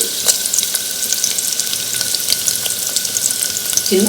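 Sliced onion and two dried red chillies sizzle steadily in hot oil with cumin and mustard seeds, a close, continuous crackle with small pops and occasional stirring scrapes, no voices.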